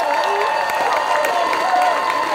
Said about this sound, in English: last applause for everyone that just competed in this competition